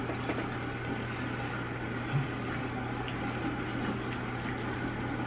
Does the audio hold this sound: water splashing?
yes